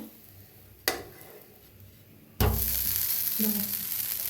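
Potato dosa on a hot pan: a sharp clink of a utensil, then a loud burst of sizzling as oil hits and the dosa is flipped, with frying continuing steadily and a light scrape.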